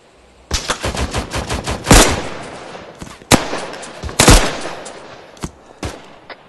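Loud automatic gunfire from the military shooter Arma 3 crackles in rapid bursts, broken by several single sharp shots and heavier cracks spaced through the passage, with no talking.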